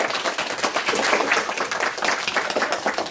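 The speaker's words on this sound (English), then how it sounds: "Give them a round of applause, everyone." A crowd of elementary school students and families claps steadily at a school history event, a dense continuous applause without pauses.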